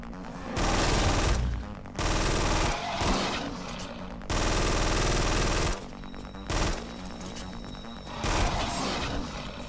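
Bursts of automatic gunfire from the player's gun in the video game Collapse come in several loud, close volleys of one to two seconds each, separated by short pauses.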